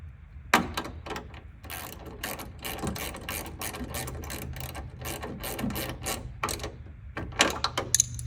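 Ratchet socket wrench tightening a 13 mm bolt on a hood lifter kit, giving a close run of quick ratcheting clicks in uneven bursts with a few sharper knocks near the end.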